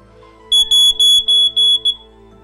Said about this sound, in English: Make sure you have working smoke alarms installed on your home.